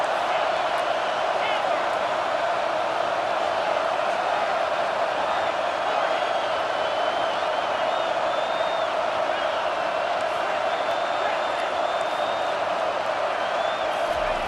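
A stadium crowd in the College Football 25 video game roars in a constant, dense wash with no let-up, at a moderate level.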